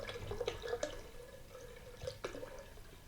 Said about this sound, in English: So we're going to put some spring water in the blender